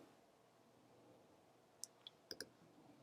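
A computer mouse clicked on a save button: a handful of sharp, close, dry clicks, some in quick pairs, over a quiet room hum with no talking.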